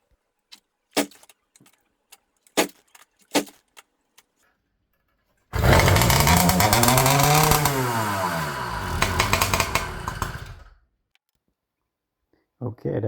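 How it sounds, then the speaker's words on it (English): A few clicks and clanks, then a small two-stroke engine on a motorized bicycle, running without its exhaust, roars to life, revs up and down loudly for several seconds, and cuts out. "the first test run without the expansion chamber. No, without the exhaust."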